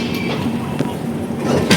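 The Madurai–Hazrat Nizamuddin Sampark Kranti Express at a railway platform gives off a steady, moderately loud rumble and hum, with faint clanks and a short rattling burst near the end.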